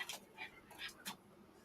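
A puppy gives a few faint, soft whimpers and short whines, spaced irregularly and close by, with no one talking.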